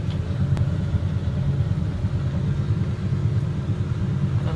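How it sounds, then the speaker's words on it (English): A COMFEE' 0.9 cu.ft portable compact washing machine running its spin cycle, giving a steady, loud low rumble with a constant motor hum that holds without a break and no talking. "So right now it's on the spin cycle."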